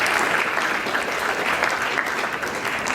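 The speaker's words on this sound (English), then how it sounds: "can you guys clap first also?" Dense, continuous clapping from a school audience at an antibullying assembly, close and loud throughout the short stretch with no break.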